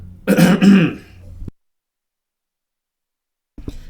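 A man clears his throat once, a short rough rasp followed by a brief catch, then silence before a faint second sound near the end.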